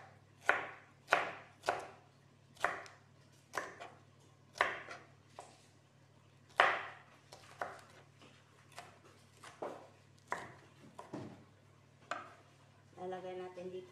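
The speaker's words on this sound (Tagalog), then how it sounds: "Una nating hihiwain ang green pepper." A knife chops green pepper on a cutting board in a series of crisp, evenly spaced strokes, close and distinct, with a brief clatter at the end.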